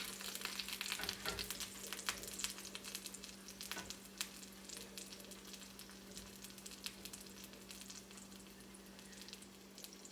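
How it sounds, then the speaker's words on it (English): Pizza dough sizzles in a hot pan, a faint, steady crackle with scattered pops and hiss that continues throughout, with no talking. "You might hear it sizzle a little bit."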